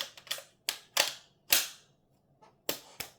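Parts of a reassembled Zabala Hermanos 10 gauge shotgun are pushed back into place, giving a series of sharp, close metallic clicks and snaps spread unevenly over a few seconds, with no talk.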